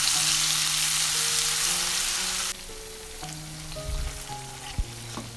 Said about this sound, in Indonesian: kita aduk-aduk, kita tumis sampai dia harum